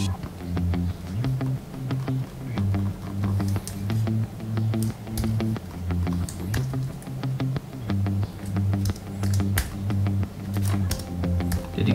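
Fingers type on a computer keyboard, a scattered run of sharp, close clicks over a steady low humming drone, with no voices.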